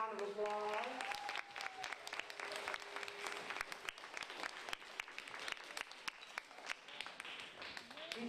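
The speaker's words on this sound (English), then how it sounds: "Let's give her a round of applause." An audience applauds steadily for several seconds at a recognition event honoring a school partner, with the clapping continuing after a brief voice at the start.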